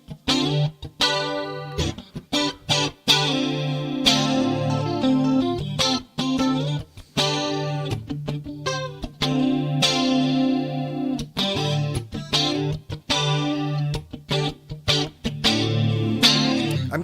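Electric guitar played through a chorus effect pedal, a continuous run of picked notes and strummed chords with a shimmering, wavering tone, some distortion, and short pauses between phrases; no voices.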